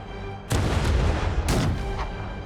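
Troll catapults being destroyed in the Black Desert Online video game, with two heavy booming blasts about a second apart over a loud, continuous rumbling battle din and no speech.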